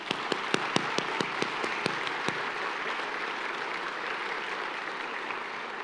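Audience applause at a regional civic event honoring county officials, a scatter of sharp individual claps at first that blends into a steady, moderately loud wash of clapping from a crowd.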